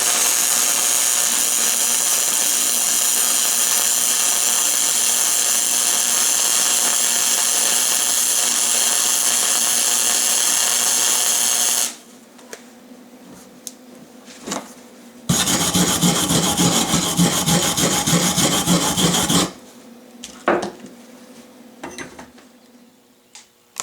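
Mastercraft MIG flux-core welder laying a bead on thick steel, a loud steady crackling hiss that runs for about twelve seconds, stops, then returns in a shorter four-second burst, with quiet handling noise in the gaps.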